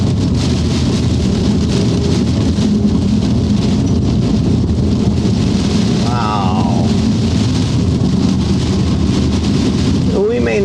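Rain mixed with snow and hail beats loudly and continuously on a truck window, a dense unbroken patter, with a brief spoken exclamation partway through.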